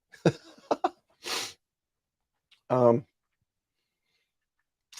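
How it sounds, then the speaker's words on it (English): A person sneezes once, a sharp close burst preceded by a quick inhale, with brief bits of talk and small clicks around it in a quiet room. "I always do sneezes in threes."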